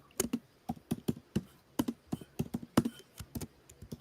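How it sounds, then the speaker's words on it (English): Rapid, uneven keystrokes on a computer keyboard during a live stream, about a dozen sharp clicks clustered in bursts, close and fairly quiet with no voice. "I'm sorry, I'm typing."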